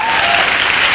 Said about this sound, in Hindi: इस बिजनेस के लिए और कंपनी के लिए मैं ताली बजवाना चाहता हूं